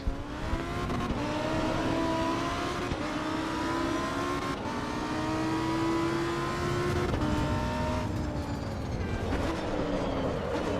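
A race car driving at the Nürburgring in Assetto Corsa EVO, its engine droning loudly and continuously with rising and falling pitch through gear changes, brief breaks between shifts, close and dominant throughout.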